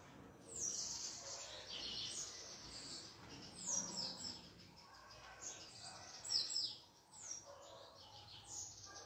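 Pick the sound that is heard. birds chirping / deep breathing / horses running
birds chirping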